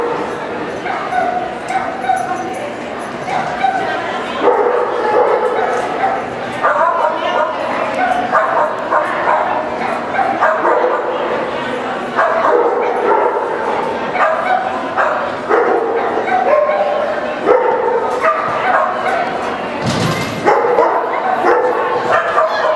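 Dogs at a kennel club event bark with yips and whimpers in steady bursts through the whole stretch, close and loud, while a person talks encouragingly over them.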